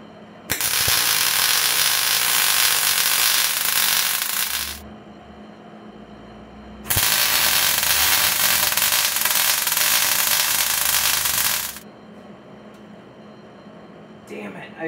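Welding a mini notch on a 1996 Ford Ranger: two long loud bursts of harsh crackling arc hiss, each several seconds, separated by a brief pause with low background noise.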